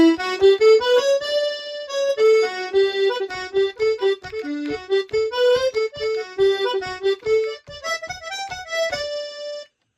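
A Streb electronic button accordion played solo, a lively melody of distinct reedy notes over rhythmic bass button stabs, clear and close with no talking.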